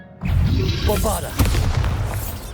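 Bombarda explosion spell in the video game Hogwarts Legacy: a loud booming blast with a low rumble and a second burst about a second later, surrounded by spell effects.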